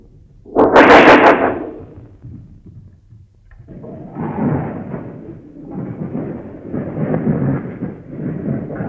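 In a film climax scene, a loud thunderclap bursts early on, followed by a steady wash of rain, with a further rumble building toward the end.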